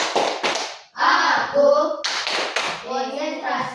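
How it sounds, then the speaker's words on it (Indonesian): Schoolchildren in a classroom perform the concentration clap, a rhythmic routine of sharp, close hand claps in quick groups. Chanting children's voices are mixed in and briefly speak over the claps. "Tepuk konsentrasi biar lebih semangat"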